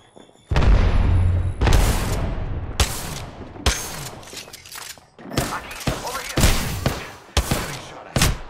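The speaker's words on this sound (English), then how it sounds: "Throwing Arc Star." Arc Star grenade thrown and exploding in Apex Legends, amid a dense run of sharp booms, gunfire bursts and clattering impacts, loud and close, with bits of voice chat underneath.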